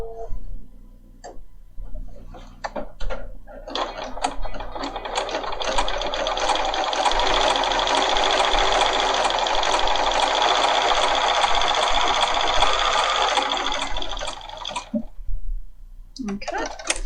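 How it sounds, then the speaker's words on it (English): A Bernina 5 series sewing machine stitches a row of stitches, a close, even whirring hum lasting about ten seconds, with a few clicks and handling noises before and after. "So I'm going to go ahead and stitch a row of stitches"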